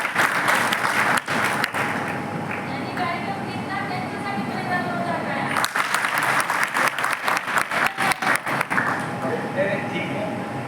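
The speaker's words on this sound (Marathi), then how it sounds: "एकदा टाळ्या वाजवा" Applause at a school education programme event, rapid dense clapping in loud bursts with a brief pause midway, mixed with crowd noise and a faint steady tone.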